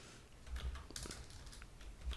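Quiet, close typing on a computer keyboard while PHP code is written, a short run of soft irregular key taps with faint background hiss.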